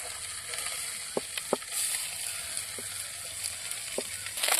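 Fish sizzling steadily in hot oil, a continuous bright crackle with a few sharper pops and spatters scattered throughout, close and moderately loud with no voices.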